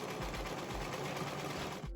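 Sewing machine stitching a hat lining, running steadily at a fast, even rhythm with a close mechanical whir and needle clatter, stopping abruptly at the end.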